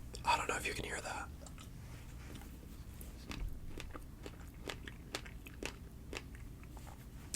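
Someone chews chopped strawberries close to the microphone with soft, intermittent wet bites and faint crunches, after a brief whisper at the start.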